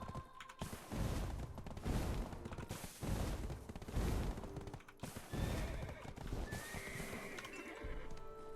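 A horse in the video game Black Desert Online neighs and whinnies repeatedly with clip-clopping hooves, fairly quiet and alone without talk.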